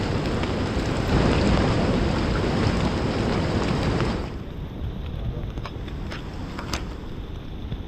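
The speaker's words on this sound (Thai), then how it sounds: "ฝนตกตลอดเลยพี่น้องเอ้ยฝนตกบ่หยุดบ่เช้าเลย" Heavy rain pours down without pause in a dense, loud hiss that eases noticeably about halfway through into a lighter, steady patter with scattered distinct drops.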